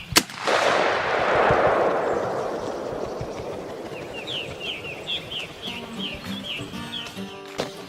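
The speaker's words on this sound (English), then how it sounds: "Get the shotgun up. Shoot the strutter. Shoot it." A shotgun blast fired at a strutting turkey on a Georgia farm during a spring hunt: one loud, close boom that rolls off into echo, followed by birds calling and faint rustling.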